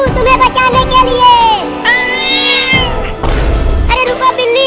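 Cartoon cat meowing in an animated Hindi ghost story, a few loud, drawn-out cries mixed with bright music and busy, crowd-like background sound.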